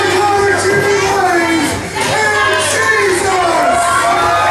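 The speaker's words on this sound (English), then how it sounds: "The crowd is going absolutely nuts." Wrestling crowd at a title match roaring and cheering loudly and continuously as a new champion is crowned, with shouts and whoops rising over a dense, steady wall of noise.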